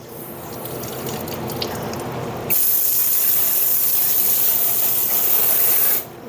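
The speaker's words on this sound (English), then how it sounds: "I'm gonna go ahead and wash the inside out now" Water sprays and rushes while washing out the muddy inside of an old house furnace, a steady hiss that jumps louder partway through and then cuts off near the end.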